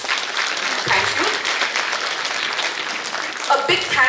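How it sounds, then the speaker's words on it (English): An audience at a school annual day claps for the parents, a dense, steady round of applause with a voice faintly underneath. "So please give a big round of applause to all our parents."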